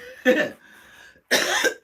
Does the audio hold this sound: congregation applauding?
no